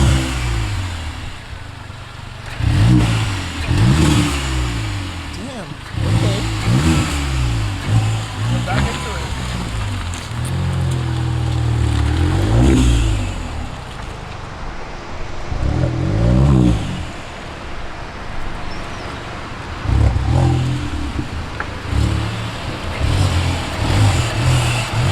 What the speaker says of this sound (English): Damn, that exhaust sounds good.